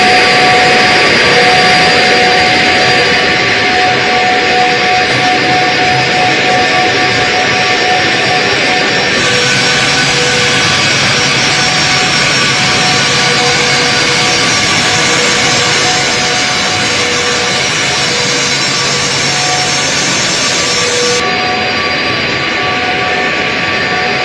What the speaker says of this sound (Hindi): पुतिन जब लैंड हुए हैं तो सबकी नजरें पुतिन के इस विमान पर थी